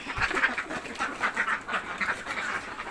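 About ten farm ducks quacking steadily in close, overlapping calls with a busy rhythm, heard alone without talk during a morning egg collection.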